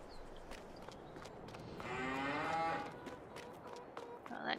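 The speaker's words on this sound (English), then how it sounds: "that cow had something to say" A cow in the farming game Farming Simulator 22 gives one drawn-out moo in the middle, fairly quiet over soft background farm ambience, with light clicks and steps around it.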